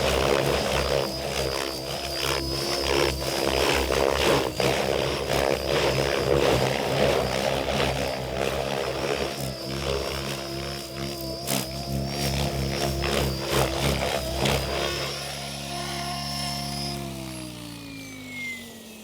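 A radio-controlled helicopter flies piro tictoc 3D maneuvers, its rotor and motor whine loud and constant, rising and falling in pitch with each rapid direction change, then sweeping down at the end.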